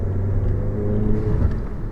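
VW Jetta GLI MK7 turbocharged engine with the muffler deleted, a steady low rumbling drone with a slight rise in pitch, continuous and close, no talk.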